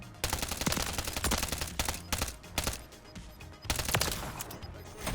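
Rapid SMG fire from a Striker build in Warzone, dense sustained bursts of shots with short pauses between volleys, loud and close over game ambience.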